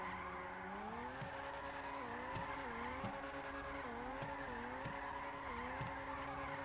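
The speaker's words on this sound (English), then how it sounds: "A little burnout before we leave." A car doing a burnout in GTA 5 holds a sustained, loud tire squeal with wavering pitch over a droning engine, while repeated short clicks punctuate it throughout.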